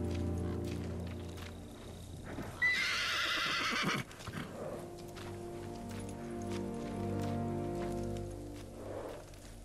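A horse in the Ghost of Tsushima video game gives a loud, close neigh partway through, with soft hoofbeats and rain-like patter around it and ambient game sounds throughout.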